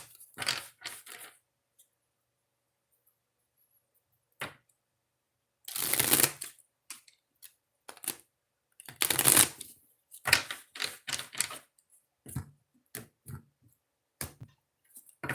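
Tarot cards are shuffled in quick riffling bursts, two longer shuffles among scattered taps and flicks, close up with quiet gaps between.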